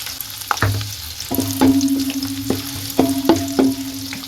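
Sliced onion frying in oil for chicken biryani makes a loud, close sizzle, with a ladle scraping and knocking the pan at a steady rhythm and no voices.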